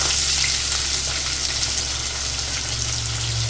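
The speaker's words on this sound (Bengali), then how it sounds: "আলুগুলো ছাড়লাম, ঝিঙেগুলো ছাড়ার আগে একটু আলুগুলো নেড়ে নেবো তেলে।" Potato pieces frying in oil for a fish curry with ridge gourd, a dense, even sizzle held close and steady throughout, with faint stirring beneath and no voices.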